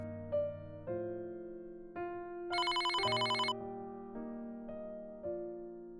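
A synthesized phone ringtone plays a slow melody of sustained tones, with a brief bright trilling burst in the middle. No one speaks.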